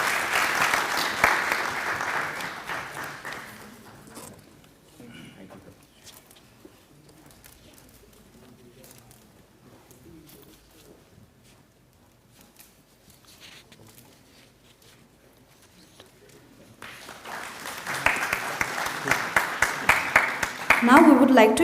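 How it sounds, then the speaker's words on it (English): Clapping from a conference audience at the start and swelling again near the end, with a quieter stretch of murmuring voices between the bursts. "So let us welcome him with applause."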